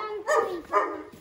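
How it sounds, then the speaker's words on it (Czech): A dog barks twice outdoors, two short, fairly close yelps about half a second apart, with a quieter hint of a third at the end. "Hele, Samson jak štěká."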